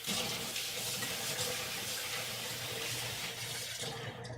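Liquid with lemon juice poured through a fine mesh strainer, a steady close splashing trickle running unbroken the whole time with no talk.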